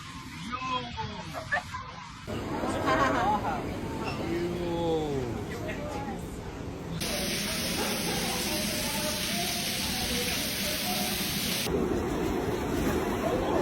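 Heavy rain with thunder in New York, a dense hiss of downpour with abrupt shifts in loudness, voices calling and exclaiming over the storm throughout.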